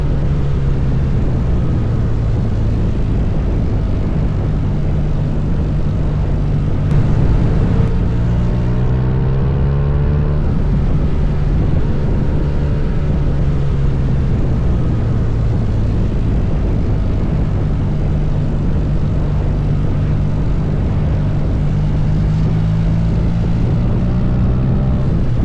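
A motorcycle on a mountain tour through the Snowy Mountains of New South Wales, its engine droning loud and steady for the whole stretch, with the pitch rising and falling a little as it is revved, and no talking.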